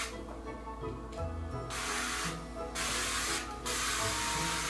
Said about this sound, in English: we're gonna go ahead and spray step two into the wig